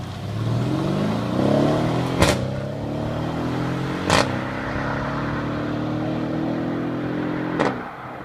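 Mercedes GLE AMG driving past at night at a car meet, an engine note rising and changing pitch as it goes by, with sharp clatters or bangs at intervals and steady traffic rumble underneath.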